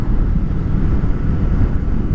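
Steady, loud wind rush buffeting the microphone while riding a Honda VFR800 motorcycle at night, a continuous low roar with engine and road noise blended underneath, without pauses.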